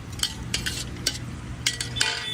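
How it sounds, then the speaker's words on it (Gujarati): Mixed vegetables and tomatoes are stirred and sautéed in a pan for moong pulao at a Vadodara street food stall: repeated close spatula scrapes and clinks over a low, steady sizzle. "જોઈ શકો છો બધું શાકભાજી આપણે ટોટલી એડ કરી દીધું છે. હવે એને પ્રોપર તરીકે મિક્સ કરી લેવાશું."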